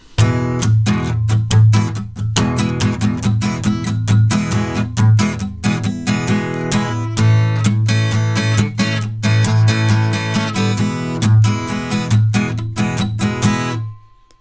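Steady rhythmic strumming of a blues guitar, dense repeated strokes with a driving pulse, sounding close and continuous until it stops near the end.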